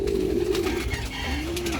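A racing pigeon coos close by at a training release, soft low rolling coos repeating over a quiet background with no talk.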